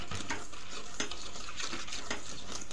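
A sugar paste mixed with refined oil is stirred in a bowl, giving soft repeated scraping and gentle clinks at a steady pace, close and quiet, with no talking.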